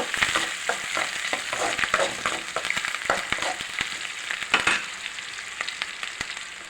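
Cumin, garlic, onion and curry leaves sauté in hot oil, a close, steady sizzle broken by frequent sharp crackles and stirring scrapes, with no speech.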